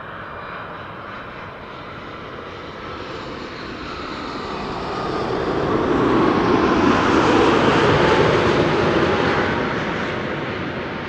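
Airliner arriving on runway 06, the Kaagbaan, at Amsterdam Schiphol Airport on a sunny day, its engine roar swelling as it approaches, peaking around eight seconds and then easing slightly, heard alone outdoors.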